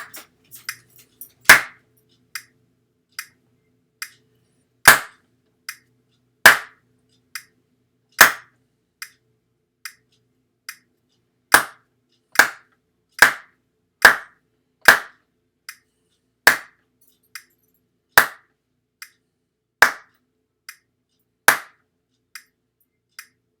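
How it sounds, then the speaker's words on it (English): Sharp single hand claps struck in a steady rhythm with a metronome, spaced and mostly even in loudness, heard close and alone against silence. "this is going to let me just clap my rhythm with the metronome"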